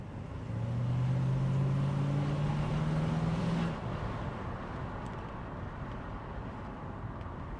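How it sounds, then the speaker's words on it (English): A 1990 Mercedes-Benz 500 SE (W126) V8 engine hums steadily from inside the cabin with windows partly down, a deep drone rising in pitch briefly before settling into a lower, even rumble with road noise. "I'm going to bring the windows down a little bit just so you can hear that engine."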